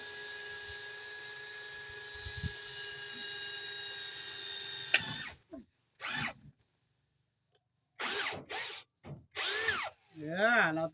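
A power drill with a homemade bit drills into wood during kitchen cabinet building. It whines steadily at close range for about five seconds, then runs in a series of short, stop-start bursts with silent pauses between them.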